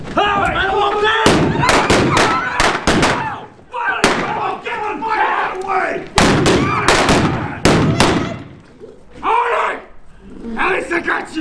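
Blank-fire gunfire in a staged Wild West shootout at the O.K. Corral in Tombstone, Arizona, a burst of loud, sharp shots in rapid clusters, mixed with shouting actors and an outdoor crowd.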